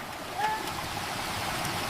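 Water rushes steadily from a repaired irrigation machine into a farm field, a continuous, fairly loud gushing wash that stays constant throughout.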